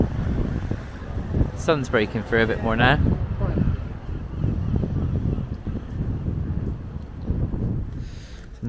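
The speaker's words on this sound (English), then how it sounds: "Oh, it's very windy again." Wind gusting on a Dorset beach at Haven Littlesea, a steady low rumble of buffeting against the microphone running throughout, with people talking over it.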